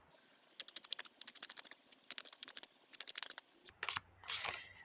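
Tarot cards being shuffled and drawn, a quick run of crisp close flicks and snaps in steady rhythm, followed by a softer sliding rustle as a card is pulled out.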